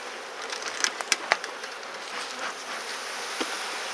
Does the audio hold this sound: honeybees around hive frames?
yes